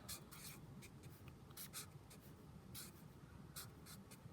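Pen or marker writing out a formula, with faint, close scratchy strokes in short bursts and small gaps, quiet and alone.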